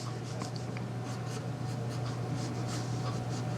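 Hand-drawing lines for the thick hose legs and half-circle foot cups of a cartoon robot, a steady soft scratch of pen or pencil on paper running close and continuous throughout, with no talk.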